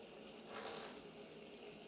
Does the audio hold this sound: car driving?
no